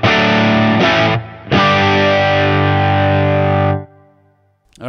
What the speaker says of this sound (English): I probably wouldn't use that much reverb, but you can hear what it's doing, and it's good!